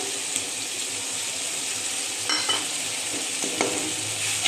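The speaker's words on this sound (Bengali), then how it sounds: "এখন দিয়ে দেব আদা আর রসুন বাটা।" Ginger and garlic paste frying with softened chopped tomato in a pan, a continuous moderate sizzle with a few scraping stir strokes toward the end.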